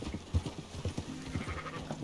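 Sheep in Red Dead Redemption 2 bleat in a quick cluster of short, nasal cries, several overlapping animals close by, fairly quiet against a light ambient backdrop.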